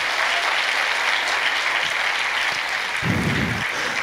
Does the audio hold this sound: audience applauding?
yes